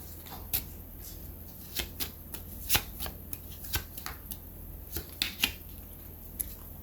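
Tarot or oracle cards are shuffled for a card reading, producing a close, crisp series of irregular riffling snaps and flicks with no talk.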